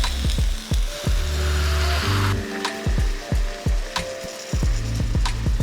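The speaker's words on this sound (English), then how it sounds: "I'm gonna press the mushrooms down to encourage them to release more of their water." Mushroom skewers grill under a weighted press, a steady wet sizzle running throughout with repeated low thumps and clunks as the heavy press is set down and shifted.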